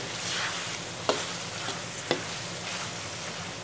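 Ginger and green chilies fry lightly in oil for mutton karahi, a soft steady sizzle with two sharp spoon clinks against the pan and no voices.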